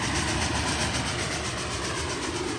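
Train rolling along the Trans-Siberian Railway, a steady loud rumble of wheels and carriages with a faint rhythmic clatter throughout, no voices.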